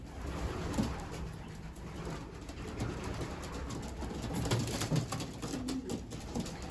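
Racing pigeons coo softly around a loft during hand feeding, the low burbling calls repeating unevenly over a steady background with light scuffling and wing patter.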